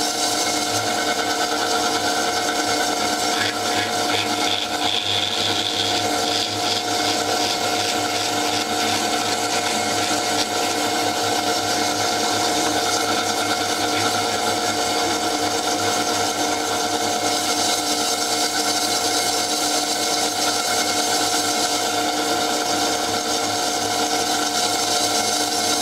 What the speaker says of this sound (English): When I lift the hone back, you can hear it gets a bit louder.